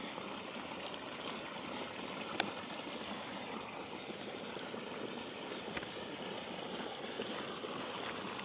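Irrigation water flows through a pipe into a field at night, making a steady, close rushing and gurgling wash with a couple of faint clicks.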